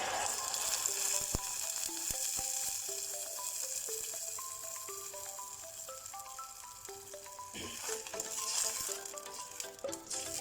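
Onion and tomatoes sizzle softly in a pan, a low steady frying hiss with faint occasional stirring clinks under it, fairly quiet and without speech.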